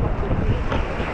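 A boat passes offshore at a busy beach at Porto de Galinhas, Brazil. Its low rumble blends with steady wind buffeting the microphone, and no one speaks.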